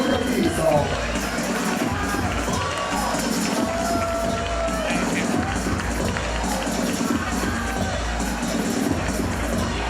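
An energetic crowd at a women's fight at Club Insanity, a dense, steady roar of cheering and shouting that fills the whole stretch without a break.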